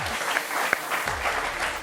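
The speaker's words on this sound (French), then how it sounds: "Vous pouvez les applaudir." Studio audience applauding on a French football television show, a sustained, even patter of clapping from a modest crowd, moderately loud and unbroken across the moment.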